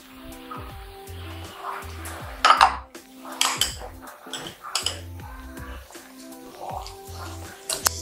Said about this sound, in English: Then I'm going to give it a nice stir